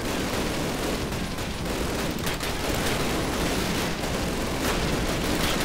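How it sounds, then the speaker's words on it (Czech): Rapid bursts of machine gun fire in Call of Duty gameplay, a dense, noisy barrage that keeps going steadily throughout, with no one speaking. "furt tu slyším kulomet"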